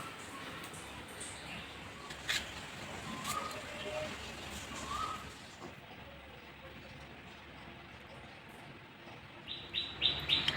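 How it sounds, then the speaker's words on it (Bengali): An Asian koel calling on a hot day outdoors: a few faint, distant rising notes over steady background noise, with a voice nearby. "কোকিল ডাকছে, তোমরা শুনতে পাচ্ছ?"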